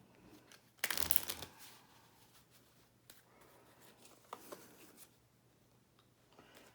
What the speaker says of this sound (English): you'll shuffle up the cards